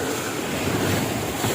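Strong sea waves break against the shore in a steady, loud roar of surf, with wind noise mixed in and no pauses throughout.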